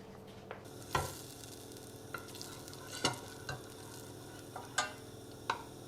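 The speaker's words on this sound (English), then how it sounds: "make a basic white bechamel sauce, and that's 50 grams of butter and 50 grams of flour." Butter and flour cooking together in a pan for a bechamel sauce, a quiet steady sizzle broken by several sharp taps and scrapes of a spoon stirring against the pan, with no talking.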